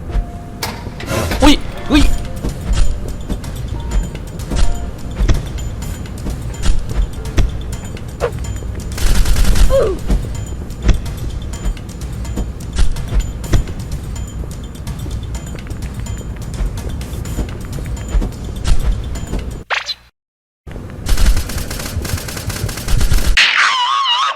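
Nail gun firing rapidly in Roblox SCP-3008 survival game, bursts of dense rapid clattering shots, loud and close, broken by pauses and a brief silent gap near the end.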